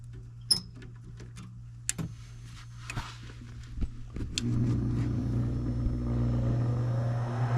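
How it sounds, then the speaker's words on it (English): A Trane furnace that is not heating starts up with a few scattered clicks and taps, and then its draft motor kicks in with a steady, close rumbling hum that continues to the end. "Draft motor should start getting the igniter."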